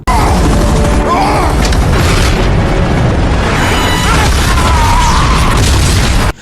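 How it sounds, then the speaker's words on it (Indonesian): A loud, sustained explosion in an action film roars and rumbles for several seconds, dense and overwhelming, with crackling debris and no clear speech. "Setelah ledakan itu"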